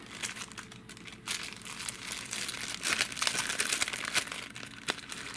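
Packaging for an iPhone case being opened close up, with repeated crinkling and rustling of plastic and paper in bursts, no talk.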